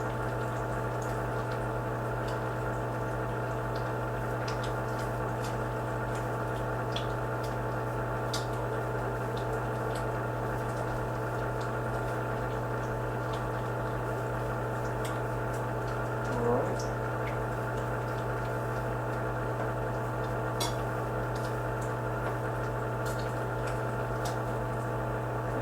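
Bacon frying in a pan over a fire gives a steady, low sizzle with soft crackles and pops, constant and fairly quiet throughout, with no talking.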